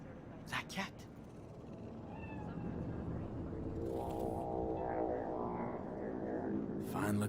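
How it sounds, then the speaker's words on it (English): In Cyberpunk 2077's Night City, a cat meows faintly amid a dense hum of city traffic and machinery, with sharp clicks early on and a voice talking. "Do you see it? That cat?"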